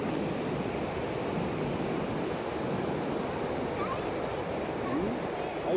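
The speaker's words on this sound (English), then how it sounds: "Look at the giant big waves." Big Atlantic Ocean waves breaking on a beach, a steady, continuous roar of surf with wind noise throughout, fairly loud and close, with no clear speech over it.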